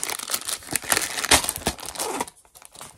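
Crinkling and tearing of plastic packaging as craft cutting dies are unwrapped, a dense run of close rustles and crackles with a louder rip near the middle, then quieter handling toward the end.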